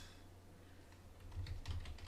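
Quick clicking keystrokes on a computer keyboard as a web address is typed, soft at first and then a denser, louder burst of taps toward the end, with no talking.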